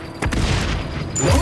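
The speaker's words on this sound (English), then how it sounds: "Throwing grenade." A grenade bursts in the XDefiant shooter, giving a loud, booming low rumble that swells and holds across the moment.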